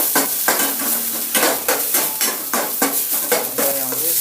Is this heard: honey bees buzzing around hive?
no